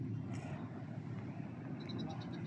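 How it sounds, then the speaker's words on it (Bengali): An airplane lands at Cox's Bazar international airport, heard as a steady, broad engine roar that holds at an even level throughout with no clear breaks. "এই যে কক্সবাজারে প্লেন ল্যান্ডিং"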